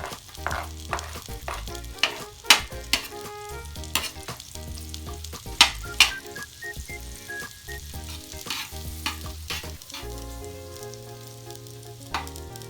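Garlic frying in a pan for a Kapampangan-style sipo egg dish, a steady sizzle with frequent sharp spatula clacks, close and fairly loud, with music playing underneath and no voices.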